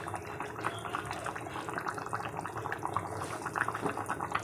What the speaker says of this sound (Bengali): দেখুন এক কড়া হচ্ছে টকবক করে ফুটছে